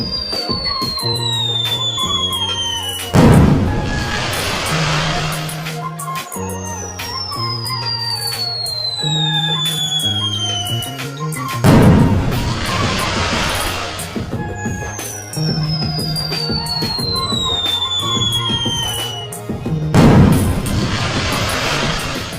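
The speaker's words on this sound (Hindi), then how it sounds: "सबसे पहले चुन्नी एक 9 शॉट्स वाला स्काई शॉट जलाता है।" A nine-shot sky shot firework whistles up and bursts three times at regular intervals, each launch a falling whistle ending in a loud crackling pop, over steady background music.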